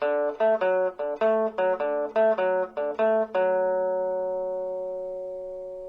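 A guitar plays a quick repeating rockabilly pattern of root, fifth and third notes, about a dozen plucked in steady rhythm, ending on a chord that rings out and slowly fades.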